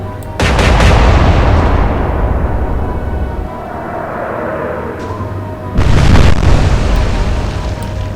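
Naval guns firing in the Atlantic Fleet video game, two loud booming salvos, each rolling into a long fading rumble.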